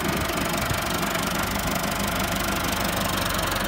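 A Massey Ferguson 385 tractor engine idles with a steady, even diesel chug that holds constant throughout, close and continuous, with no talking.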